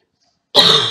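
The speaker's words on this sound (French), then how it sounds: "Je tousse." Silence, then a single harsh cough bursts out close by, rough and throaty, fading slightly at the end.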